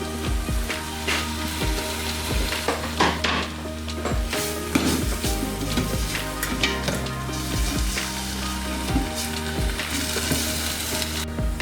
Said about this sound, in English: We've got everything in the pot, it's cooking slowly.